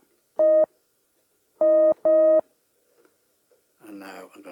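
Three short, steady electronic tones from a Polybrute synthesizer oscillator with a pause before the last two, clear and alone, followed by a brief voice.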